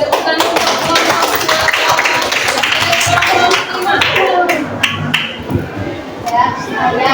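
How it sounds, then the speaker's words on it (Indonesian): A classroom group claps for the fifth group after an activity, with brisk, close hand claps at first that thin into scattered taps while children's voices chatter underneath. "Oke, tepukan untuk kelompok"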